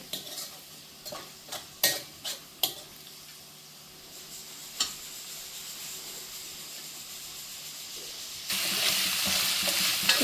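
Prawns fried with tender tamarind leaves sizzle steadily in a pan while a utensil scrapes and stirs in several sharp strokes, the sizzle swelling louder near the end; no talking.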